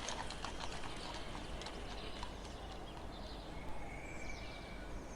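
Horse hooves clip-clop steadily as a carriage pulls away, the rhythmic clatter carrying on throughout with faint rattling of wheels and harness beneath, no voices present.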